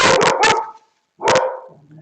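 A dog barks at a squirrel in a burst of three sharp, loud barks, then a pause and one more bark, close by with no talking.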